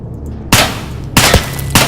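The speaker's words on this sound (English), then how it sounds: "If you guys just heard that, that was actually a ricochet" Sharp bullet ricochets and gunfire in Escape From Tarkov, three loud broadband cracks at about 0.5, 1.2 and 1.8 seconds, each cutting in abruptly over a quiet low rumble.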